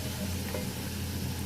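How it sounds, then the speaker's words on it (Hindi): Whole cardamom pods and bay leaf fry in hot oil for a wedding-style degi chicken korma, giving a close, steady sizzle with soft stirring scrapes. "यहाँ सबसे पहले मैंने इलायची और तेज़पात का पत्ता डाला है। इसको हमें हल्का सा फ्राई करना है"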